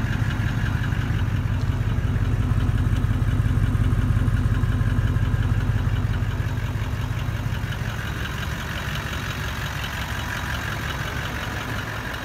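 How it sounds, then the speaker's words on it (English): A 2011 Toyota Landcruiser GXL Troop Carrier idles with a custom stainless exhaust, giving a steady, close, low rumble that holds even throughout with no talking. "I actually do believe it's got a custom exhaust on there."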